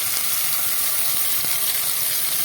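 Raw mango paste goes into hot oil with fried spice masala for a pangas fish curry, making a loud, steady, close sizzle that continues without a break.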